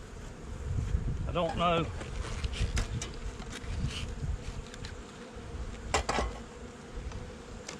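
Honey bees buzzing steadily around a hive that is low on stores, a continuous close insect drone with wind on the microphone and someone talking briefly over it.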